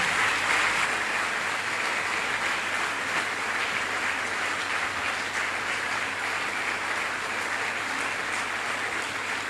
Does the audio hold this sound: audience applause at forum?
yes